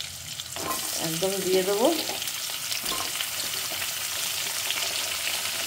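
Tomato, beans, carrot, green chili and potato frying in a pan, a steady close sizzle running throughout, with a brief voice speaking over it near the start.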